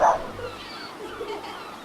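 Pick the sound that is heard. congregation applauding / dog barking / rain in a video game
dog barking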